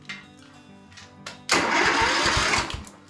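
An estate car engine with an electrical fault, a component unplugged, cranks and catches after a quiet lead-in, then runs loud and rough at close range, with no voices.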